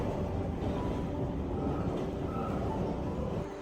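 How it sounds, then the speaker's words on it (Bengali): A London Underground train runs with a steady, heavy rumble and rattle of wheels and carriage, continuous and fairly loud for the whole stretch without any talking. "আমরা এখন যাচ্ছি লন্ডন আন্ডারগ্রাউন্ড ধরে লন্ডন ওয়াটারলু স্টেশন"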